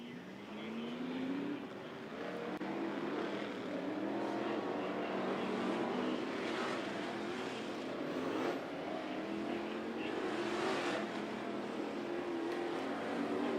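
IMCA Modified race cars at Skagit Speedway, a distant, steady drone of several engines circling the track with rising and falling pitch as the cars pass, fairly faint.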